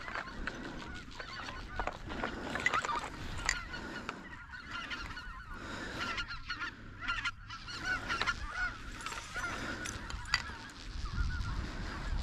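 Snow geese honking during a spring hunt, a continuous chorus of overlapping calls from a flock, fairly faint and distant with no talking.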